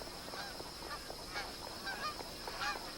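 Faint honking from geese at an Australian billabong, thin repeated calls scattered over steady broadband background noise, some distant and some a little closer.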